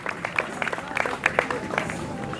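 Spectators at a classic car concours d'élégance clap in scattered, uneven bursts against a murmuring crowd, fairly close and moderately loud.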